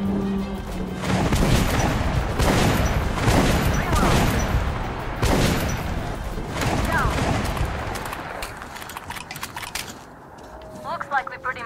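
Gunfire in the video game Metro: Last Light Redux, heavy bursts of shots and booming blasts for several seconds before fading, with people talking over it.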